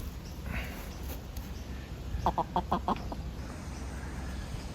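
Nearby chickens cluck in a quick run of short bursts, set against a soft outdoor background.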